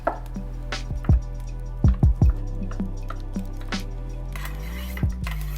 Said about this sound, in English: I'm going to do half of a block of feta, and I just chop it up a bit